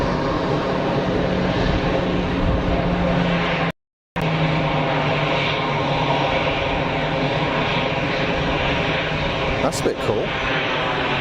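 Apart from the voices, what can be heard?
Embraer Tucano propeller aircraft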